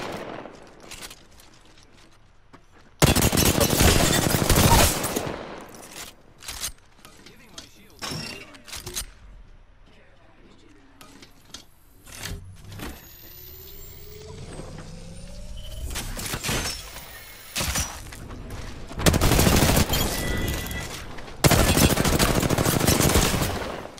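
Gunfire in a ranked arenas video game match comes in several loud, dense bursts spread across the clip, with quieter stretches of game noise and faint effects between them.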